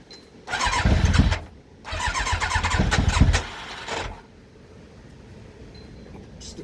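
A Yamaha YZF Thunderace motorcycle engine during a start attempt, with two loud bursts of revving, each lasting about a second and a half, then dropping back to a low, rough idle.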